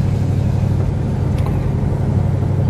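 A 1969 AMC Ambassador SST cruises along near Lake Geneva, Wisconsin, its engine and road noise forming a steady, loud low rumble heard from inside the car.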